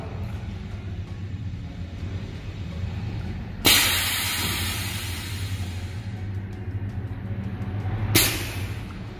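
A semi-automatic pneumatic liquid filling machine filling glasses, with a steady low mechanical hum and two sharp, loud pneumatic hisses of air release several seconds apart.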